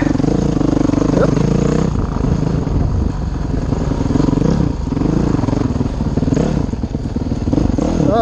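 A modded 2011 Honda CRF 450X dirt bike on a tight trail, its engine loud and close with a constant rough drone and rising and falling revs, plus rattling and clatter throughout.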